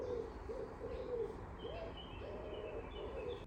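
An owl hoots outdoors in a steady series of soft, low, breathy calls spread across the stretch, moderately close over faint background noise, with a few thin high tones above.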